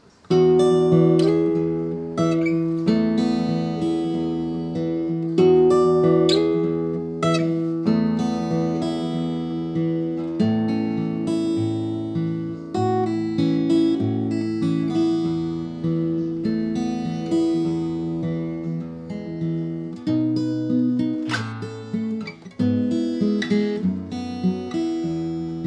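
Slowed-down acoustic guitar plays the instrumental part of a song, with clear picked notes and chords ringing in a steady, unhurried rhythm, alone and up close throughout.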